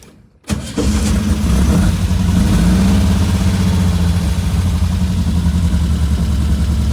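A 1967 VW Type 3 Squareback engine cranks and catches within a moment after near silence, then settles into a loud, steady, close idle rumble that carries on alone.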